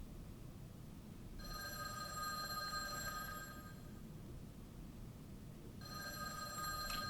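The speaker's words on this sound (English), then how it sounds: "The phone rang" An old-fashioned telephone bell rings in two clear bursts separated by a pause, bright metallic trilling over a faint background hum.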